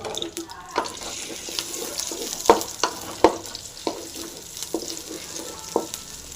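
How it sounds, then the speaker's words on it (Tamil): Ginger-garlic masala frying in hot oil for a crab soup, a steady close sizzle with irregular clinks and scrapes of stirring in the pan. "இஞ்சி பூண்டு மசாலா வந்து தனியாக வந்து எல்லாம் க்ளீனாக ஊற்றி க்ளீனாக ஃப்ரை பண்ணிக்கலாம்"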